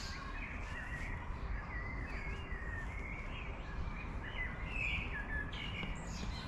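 Birds sing in garden trees, a chorus of chirps, trills and whistled phrases from several birds at middle distance over a faint steady rumble of traffic, with no voices.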